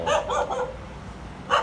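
A few dog barks in a quick burst in Bangkok, then one more bark after a pause, moderately distant over faint outdoor background.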